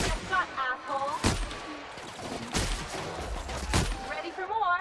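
Mega Cannon fire in the video game The Outer Worlds, with three loud, booming shots spaced about a second apart over game sounds and effects, and no talk.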